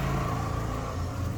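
A passing car nearby, a steady low engine rumble that swells slightly near the end.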